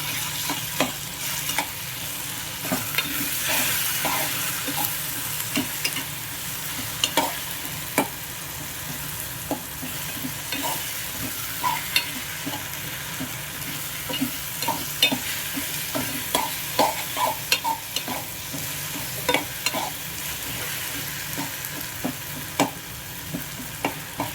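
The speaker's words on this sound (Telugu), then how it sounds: "ఇప్పుడు టమాటాలని బాగా కలుపుకున్నాం" Tomatoes fry in a pan with a constant soft sizzle, broken by repeated clinks and scrapes of a spoon stirring them, no voices present.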